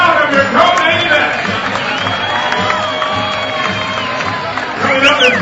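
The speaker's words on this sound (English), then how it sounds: "how about a round of applause for that great, fabulous, amazing first round of your co-main event" A boxing crowd at a co-main event roars after the first round, with cheering, shouts and whistles swelling at the start and again near the end, alongside raised voices.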